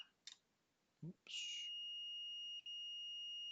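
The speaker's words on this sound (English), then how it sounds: "you can hear the beep" A couple of faint clicks, then a multimeter's continuity beep sounds, a steady high-pitched electronic tone continuing with a brief dip partway through.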